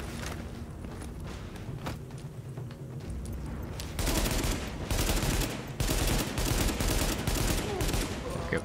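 Sustained automatic gunfire from a player's weapon in The Division, a dense continuous rattle that grows louder and harsher midway, with short breaks between bursts.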